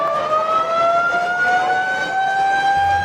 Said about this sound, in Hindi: जब शाम को इफ्तार खोलने का वक्त हुआ तो जोर से सायरन बजाया गया।